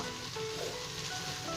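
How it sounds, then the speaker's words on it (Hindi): Chickpeas and potatoes fry in oil in a pan, giving a faint, steady sizzling hiss with no talking. "चना 2 से 3 मिनट भूनने के साथ ही हम इसमें आलू ऐड कर देंगे,"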